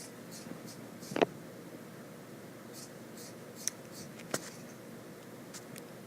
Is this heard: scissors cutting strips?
yes